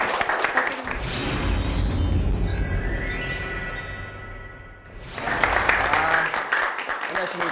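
Audience applause greets a magician taking the stage for a lecture on a Korean TV talk show, a broad steady wash of many hands that swells, dips briefly near the end, then rises again.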